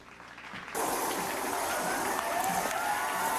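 A crowd claps and cheers, breaking in abruptly after a quiet start and continuing as a dense, steady wash of applause.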